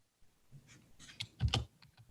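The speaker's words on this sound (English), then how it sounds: "So press Control B on your keyboard." A few keys are pressed on a computer keyboard, soft clicks building to a quick cluster of sharper taps near the middle, close and quiet.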